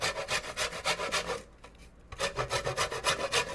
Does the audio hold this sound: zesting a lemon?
yes